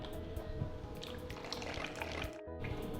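Orange Fanta pours into conch fritter batter with a soft continuous liquid trickle and fizz, faint and close, broken by a brief gap near the end.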